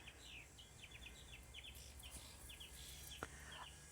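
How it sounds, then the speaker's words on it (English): Migratory birds singing in a Florida butterfly garden, a continuous series of quick high chirps and twitters from several birds, fairly faint and outdoors, with a brief sharp click near the end and no talking. "you can hear there's a lot more birds in my garden"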